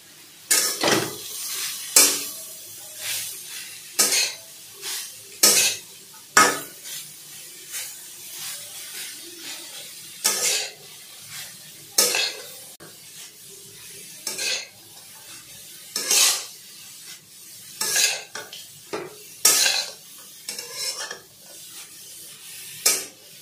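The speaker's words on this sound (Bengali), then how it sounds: "এরপর আমি কিন্তু খুব ভালো করে নেড়ে চেড়ে এটাকে ভেজে নেবো।" Grated carrots for gajar halwa are stirred and fried in a hot pan, with a soft sizzle under repeated loud scraping strokes of the spoon, in uneven bursts throughout and without talk.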